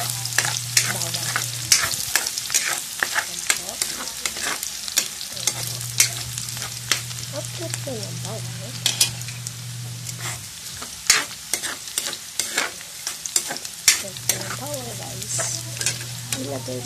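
Garlic frying in a pan for ginisang alamang, a continuous crackling sizzle with repeated scrapes and taps of a spatula being stirred, close and fairly loud, no talking.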